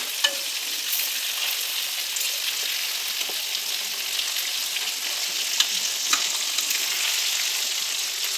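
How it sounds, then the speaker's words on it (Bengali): Hilsa fish pieces frying in hot oil in a home kitchen as they are turned over, a dense continuous sizzle with faint scraping from the flip, close and fairly loud, with no talking. "মাছগুলো এখন আমি পাল্টিয়ে নিচ্ছি।"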